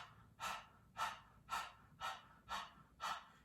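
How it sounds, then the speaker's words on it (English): Rhythmic panting breaths during a breath of fire yoga exercise, six short forceful exhales at an even pace, close and clear with no talking. "We're going to start by panting like a dog."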